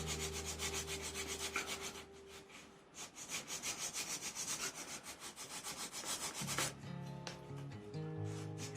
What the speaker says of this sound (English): I'm also going to sand just under that edge there, being careful not to nick the supports, but again rounding out the sides of that barrel.